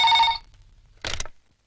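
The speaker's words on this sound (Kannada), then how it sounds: "ಸವಿತಾ, ಫೋನ್ ತಗೊಮ್ಮ." A telephone bell rings in a short burst, then falls silent before a second brief ring cuts in and stops, close and clear with no voices.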